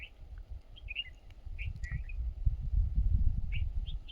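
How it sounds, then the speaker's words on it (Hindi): Small birds in a quiet mountain village in Uttarakhand give scattered short chirps and tweets at a moderate distance, set over a low, steady rumbling background. "चिड़ियों का यही आपको चहचहाट सुनाई दे रही होगी।"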